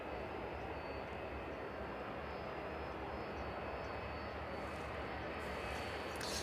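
A Boeing 757 taxis at night at East Midlands Airport, its engines giving a steady, fairly distant roar and whine that holds constant throughout.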